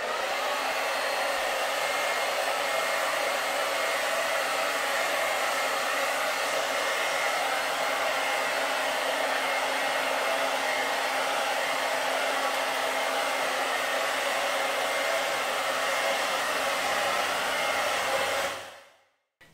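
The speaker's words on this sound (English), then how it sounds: "the hairdryer should be on a medium heat" Hair dryer on medium heat blowing steadily and loudly for about eighteen seconds while hair is straightened with a firm-bristled brush, then cutting off abruptly at the end.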